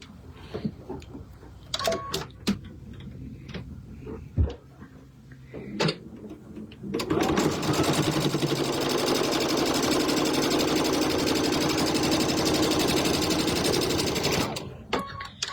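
A sewing machine runs steadily for several seconds, a fast, even mechanical whir and clatter as two fabric pieces are stitched together, close by. Scattered handling clicks and rustles come before it, and there is no speech.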